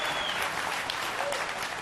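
A keynote audience at an education conference breaks into loud, dense applause, a sustained wash of clapping from a large crowd that carries through the whole moment with no speech over it.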